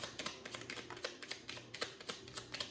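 An oracle card deck is shuffled by hand, giving a quiet run of soft, rapid riffling clicks and taps with no talking.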